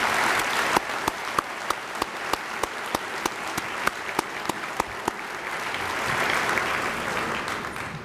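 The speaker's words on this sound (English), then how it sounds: "Please join me in a round of applause to thank them all for their hard work and leadership." Audience applause fills a hall at a children's awards event, a steady wash of many hands with sharp individual claps standing out in a regular rhythm, swelling slightly toward the end without any voices over it.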